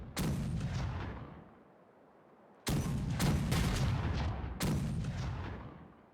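Ship cannons fire a broadside in the Caribbean Legend pirate video game, three heavy booming volleys of stacked blasts with long rumbling tails. Loud and close, no talking.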